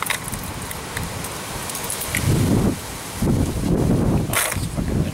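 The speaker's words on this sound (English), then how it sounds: "it's fucking windy" Strong wind blowing outdoors, a loud rushing buffet against the microphone that gusts in several surges, with a voice speaking faintly underneath.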